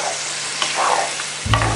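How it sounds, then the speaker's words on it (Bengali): Okra for bhindi do pyaza being stirred with garam masala powder in a pan: close scraping strokes over a steady sizzle, with a heavier knock of the spoon near the end. "গরম মশলা গুঁড়ো, মেরে মিশিয়ে দিচ্ছি।"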